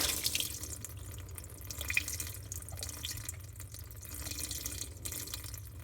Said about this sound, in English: Look how nice that's draining now.